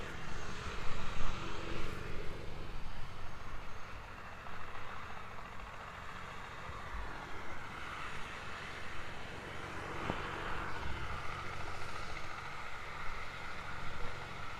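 A small Cessna Caravan at Queenstown Airport, an alpine airfield, sends a distant, steady propeller-engine drone rolling across open air under faint background noise.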